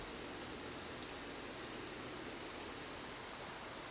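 Steady simulated rain in a Zibo 737 flight simulator, a dense even hiss of drops with no breaks, soft and constant throughout with a faint high whine above it.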